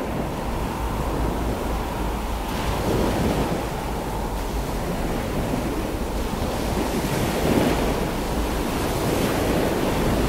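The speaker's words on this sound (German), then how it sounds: "das Tosen der Brandung unter dir" Surf breaks on a seashore in a continuous roar of crashing water, with gusty wind noise. It swells slightly now and then and stays loud and close throughout, with no voices.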